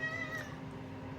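A pet cat gives one short, close meow in a home kitchen, with a slight rising whine and faint room noise behind it.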